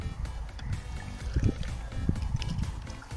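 A kayak paddle dips and strokes through shallow water near a lake, giving soft splashes and gurgles over low wind rumble, close and fairly quiet.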